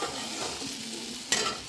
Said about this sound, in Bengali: একটু সর্ষে ফোড়ন দিয়ে আর একটা শুকনো লঙ্কা ফোড়ন দিয়ে আমি একটু কুমড়োটাকে ভেজে নিচ্ছি